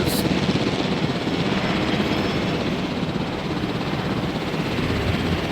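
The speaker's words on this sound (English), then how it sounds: "Helicopter, don't return to base" Helicopter rotor thumping steadily in Jurassic World Evolution at a dinosaur research facility, a loud, continuous chop and engine drone with no talk.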